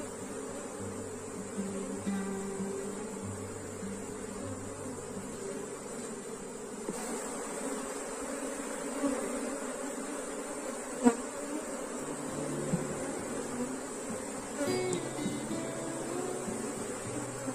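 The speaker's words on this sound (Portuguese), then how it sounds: "Até que tem um volume bom de abelhas" Africanized honey bees drone in a steady, moderately loud buzz from an open hive being inspected, with a few faint clicks and handling noises and no talk.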